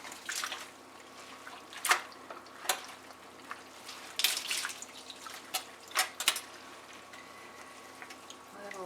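Hand-dyed yarn fibre rinsed in water, giving irregular splashes and drips with soft sloshing in between, close and moderately loud over a steady faint background.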